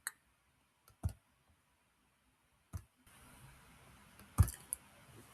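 A few sharp, isolated computer mouse clicks at irregular intervals, heard up close over near-silence that turns to a faint hiss partway through.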